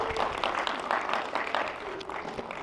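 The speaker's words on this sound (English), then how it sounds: "Let's give Sandra a big round of applause, everyone." A crowd at Disneyland's Animation Academy claps at moderate volume after a drawing class, the applause slightly distant and uneven, swelling and fading in loose bursts.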